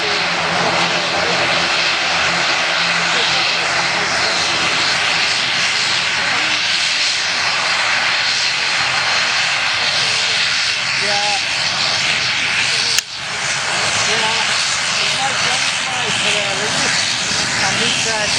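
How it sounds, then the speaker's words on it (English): Turkish Airlines Airbus A321 jet taking off from Manchester Airport, a loud broad engine roar sustained throughout with a brief sharp knock near the end; a person speaks over it. "Turkish Airlines over there, A321 going to Istanbul, and this noisy thing"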